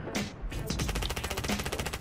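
Automatic gunfire in Rainbow Six Siege, a rapid rhythmic stream of close, loud shots firing continuously for about two seconds, preceded by a couple of separate shots.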